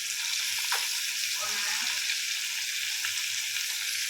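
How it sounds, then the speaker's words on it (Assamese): Freshly caught fish fries in a pan over a gas stove, a steady close hiss of sizzling oil with a few faint stirring clinks and no talking. "এতিয়া মাছখিনি ফ্ৰাই কৰি দিওঁ।"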